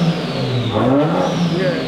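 A BMW M140i engine revving, a loud rising and falling mechanical whine with a deep drone underneath, heard close by over a short burst.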